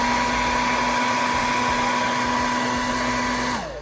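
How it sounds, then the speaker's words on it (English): Steady, loud whine of a hair dryer aimed at a custom TMNT turtle action figure, droning with a constant tone before winding down at the very end. "I'm using a hairdryer because I prefer it"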